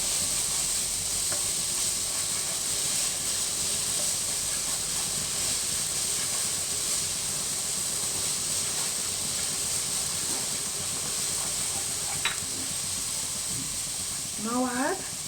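Finely chopped onions sautéing in a pan: a constant, even sizzling hiss held throughout, close and fairly loud, with a voice speaking briefly near the end.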